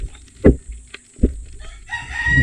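A chicken clucks and crows in a couple of short bursts amid outdoor background noise, fairly close by.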